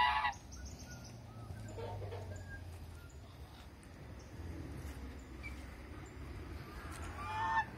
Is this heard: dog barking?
no